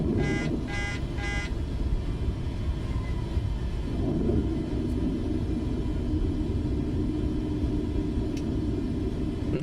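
Airliner taxiing to the gate in Microsoft Flight Simulator, a steady low engine rumble throughout, with three short beeping tones at the start.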